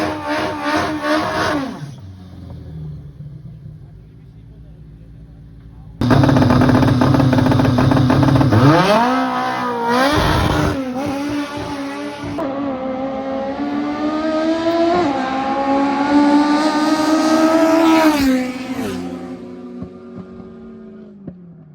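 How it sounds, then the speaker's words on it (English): Drag racing cars accelerate hard down the strip, engines roaring through the throttle bodies with rising revs and gear changes, one brief pass, then a long, loud sustained run of climbing engine notes that fades at the end. "All you can bloody hear is the throttle bodies"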